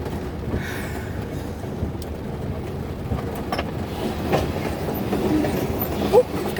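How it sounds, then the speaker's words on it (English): A train rolls past on rails at a steady, continuous rumble, with a few faint clanks rising near the end and light wind buffeting the microphone. "At least this is a train"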